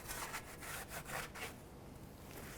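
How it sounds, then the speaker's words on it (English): A clean rag wiped repeatedly over a surface under a 2005-2010 Dodge Dakota while cleaning off transmission fluid and grease, giving soft rhythmic rubbing strokes, fairly quiet and close. "with another clean rag, I'm just going to clean this area, make sure there's no ATF fluid or grease."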